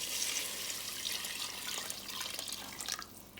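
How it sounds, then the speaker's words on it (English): Water poured into a pot of cooking turkey, a steady splashing rush of liquid that runs continuously at moderate level, tapering off near the end. "So it's time for us to add some water in here"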